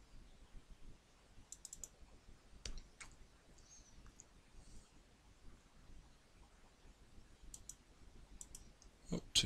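Computer mouse clicking at a desk, scattered quick sharp clicks, some in fast pairs and clusters, over a faint quiet room background.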